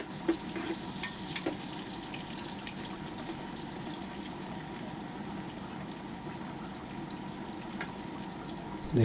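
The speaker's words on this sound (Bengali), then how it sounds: "দেখুন মশলাটা আমার অনেকটা ফ্রাই হয়ে গেছে।" Whole spices, cinnamon, cardamom, large and small cardamom and star anise, fry in oil in a pot with a quiet, even hiss and faint crackle, a few soft ticks, no speech.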